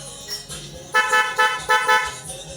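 A vehicle horn honks several times in quick short blasts, loud and nearby, following a brief softer toot.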